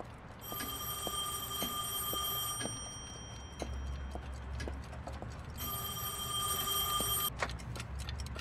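A telephone rings in the Heavy Rain video game, two long electronic bell rings separated by a pause, clear and fairly close over quiet room ambience.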